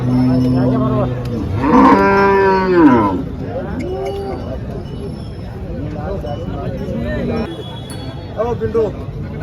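HF and Jersey cows at the Chalisgaon cattle market, one loud close moo followed by lower, quieter moos, with crowd chatter and clinks in the background.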